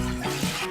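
Three cups (600 ml) of water pour briefly into a pot to start a beef-shank broth for a Korean tofu hot pot, a short, steady splash at close range.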